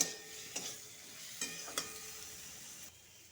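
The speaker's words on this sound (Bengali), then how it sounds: "মশলাটা ভাজা হয়ে গেছে বন্ধুরা দেখতে পাচ্ছ গন্ধ অনেক সুন্দর বেরিয়েছে" A soft, steady sizzle of spices with red chilli powder and green chillies frying in a pan, broken by a few sharp scraping clicks of stirring; no voices.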